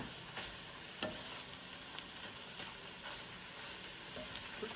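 Spinach cooks quietly in a pan with a faint, even sizzle, broken now and then by soft taps of stirring.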